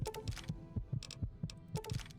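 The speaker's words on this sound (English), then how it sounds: "Heart beating." Fast, steady heartbeat thumps pulse in the video game Fallout 3, a low rhythmic double beat repeating close and prominent, with faint clicks over it.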